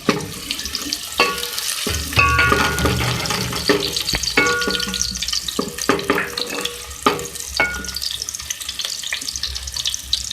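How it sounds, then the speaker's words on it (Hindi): Two medium onions hit half a cup of hot oil and fry with a wet, crackling sizzle, interrupted by sharp scraping stirs of a spoon against the pan, close and fairly loud throughout. "मैंने यहाँ पे ऑयल लिया है 1/2 कप और इसमें मैं 2 मीडियम साइज़ की प्याज ऐड करूँगी।"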